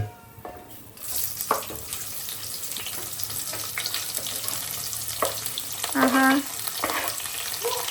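Onions frying in hot oil for biryani masala, a loud steady sizzle that swells after a quiet start, broken by spatula scrapes and a brief clink near the end, heard close with no talk.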